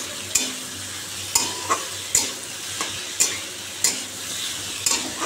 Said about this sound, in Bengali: উচ্ছে কুমড়ো ভাজছি এখন